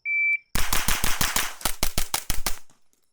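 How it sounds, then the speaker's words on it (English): Rapid string of suppressed rifle shots from a JP-5 fitted with a HUXWRX Flow 9K Ti titanium suppressor, mixing subsonic and supersonic rounds; about a dozen sharp, loud cracks in quick irregular succession after a short electronic beep, then silence. "The sound difference between the subsonic and the supersonic ammunition is shocking, but this JP-5 is chugging through all of it"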